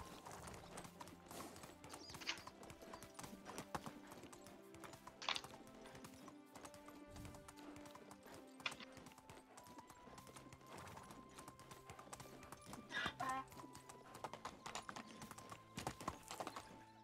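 Donkey hooves clop steadily in the medieval survival game Medieval Dynasty, a continuous rhythmic clatter over layered game music and ambience, with occasional whinny-like calls.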